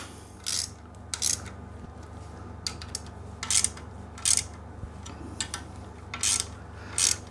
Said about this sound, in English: we'll take our 8mm socket and tighten up the 4 bolts